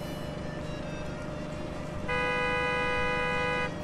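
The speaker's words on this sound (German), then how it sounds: "Okay, wer hupt da?" Car horn honking at a gas station in the video game Gas Station Simulator, a steady sustained blast in the second half over a low engine-like hum, fairly loud and close.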